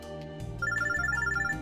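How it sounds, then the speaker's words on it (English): A phone droid rings in the Robotics;Notes Elite visual novel, a steady electronic ringtone with a bright repeating melody that starts abruptly and plays loudly and continuously, with no voices. "My phone droid begins to ring."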